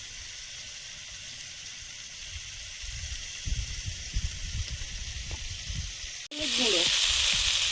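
Eggs fry in a hot pan with a steady, close hiss and sizzle. Soft stirring clatter runs underneath, and the sizzle suddenly swells louder near the end, as though something new hits the oil. A voice speaks briefly.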